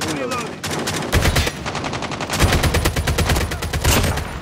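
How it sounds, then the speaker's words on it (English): Dense, loud automatic gunfire from a Call of Duty match, likely involving the ASM-10 rifle, with rapid bursts and overlapping shots running continuously, some heavier booms mixed in. "They're literally shooting at me."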